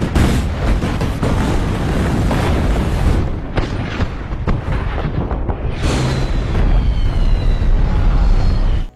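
Artillery bombardment explosions pound an island during the Incheon landing, a dense, loud barrage of booms and blasts rolling one into another, with a few sharper bursts and a brief lull before it swells again.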